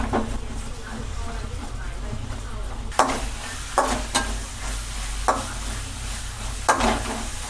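Onions sizzle steadily while frying in a pan for egg bhurji, with several sharp scraping stirs of a spatula punctuating the sizzle at close range.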